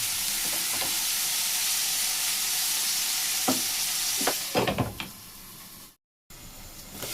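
Potatoes fry with tomato and onion in a pan, a steady close sizzle broken by several scraping stirs, then a brief pause before the frying resumes.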